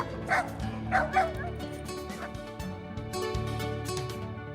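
An American XL Bully dog barks in a few sharp, close bursts near the start, then yips and whimpers more faintly over a steady tonal background.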